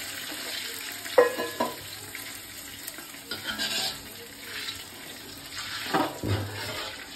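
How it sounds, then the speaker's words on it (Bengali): Water poured into a pan while cooking biryani after frying onions, a splashing pour with sizzling and stirring clatter, close and moderately loud. "জল দেওয়া হলো।"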